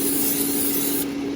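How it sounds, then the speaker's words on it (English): Cooking spray misted onto breaded, panko-coated food before it goes into an air fryer: one steady, close hiss lasting just over a second, alone. "So first spray before it goes in,"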